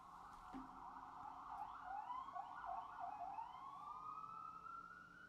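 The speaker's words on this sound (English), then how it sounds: "these ambulances are messing up my show here" Ambulance sirens wail on a New York City street, a loud rising and falling tone sweeping steadily as the vehicles pass, heard alone without talk.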